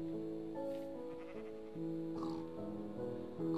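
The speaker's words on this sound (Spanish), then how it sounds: "¿Cómo se han escapado las ovejas," Sheep in the game Minecraft bleat in several short wavering calls, close and fairly clear, overlapping over a few seconds with no talking.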